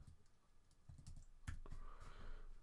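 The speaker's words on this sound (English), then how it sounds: "I type things in here, like best pressure washer." Soft, quick keystrokes on a computer keyboard, a short burst of irregular taps close by with a slightly louder clack midway, with no talking.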